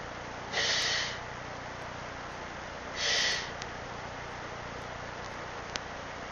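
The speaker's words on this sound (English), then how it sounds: "I gotta blow my nose again" Two short, forceful nose blows a few seconds apart, close by, with quiet background between them.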